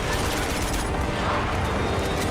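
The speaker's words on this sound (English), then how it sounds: "it is with the gunshots and the explosions" Gunfire and explosions from a video game trailer shown at a press conference, a dense continuous barrage of loud bursts with no clear gaps, heard from a distance through speakers.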